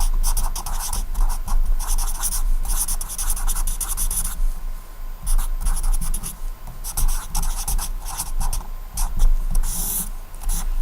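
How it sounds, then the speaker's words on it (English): Steady scratchy strokes of a pen or pencil writing on a small piece of paper at a chemistry lab desk, close and continuous for about ten seconds with brief pauses between words. "let me just write it on this little piece of paper right here"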